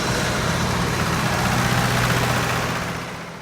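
A 5000 tractor idles with its PTO engaged, a steady low droning rumble with a constant hum, loud and close, easing off slightly near the end.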